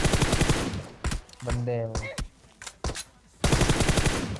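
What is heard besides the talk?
gunfire in video game PUBG Mobile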